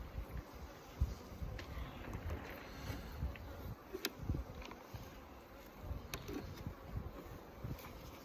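Honey bees at an opened backyard hive during a spring inspection give a soft, continuous low buzz, with occasional faint knocks and scrapes from handling the frames.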